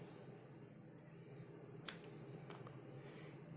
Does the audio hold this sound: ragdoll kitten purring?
no